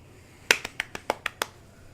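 Seven quick claps in an uneven burst, sharp and fairly close, over a quiet background.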